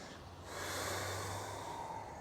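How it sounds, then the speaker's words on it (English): Deep breathing during a Pilates yoga fusion workout, one long, close, breathy inhale or exhale swelling after a brief pause and then tapering, with no talk. "Take a breath."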